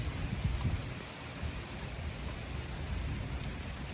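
Steady rain falls during a severe supercell thunderstorm over a city, driven by gusting wind, a dense broadband wash with low rumbling underneath, continuous and fairly close, with no voices.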